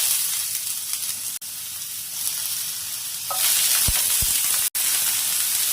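Onions frying in a pan with ginger, garlic and green chillies give a loud, steady sizzle, with a few sharp spoon-on-pan knocks as the mixture is stirred.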